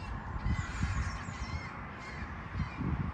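Outdoors near a tree with a nest, a bird calls repeatedly in harsh, crow-like caws, faint and distant over steady wind noise.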